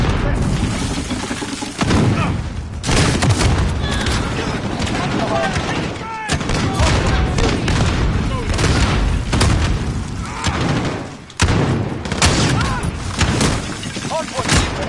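Dense, loud gunfire and booming explosions from an online shooter match in Hardpoint mode on PS4, with rapid bursts and heavy thuds nearly continuous, under game announcer voice lines.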